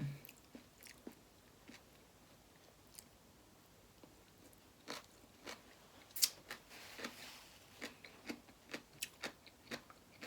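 Crisp, crunchy bites of raw vegetables eaten with khanom jin rice noodles, heard close and quiet as irregular chewing crunches that speed into a denser rhythm toward the end.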